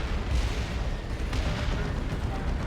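Manticore artillery in the video game Dawn of War 2 rumbles as dense, continuous low booms and blasts, loud and close, with no talk over it.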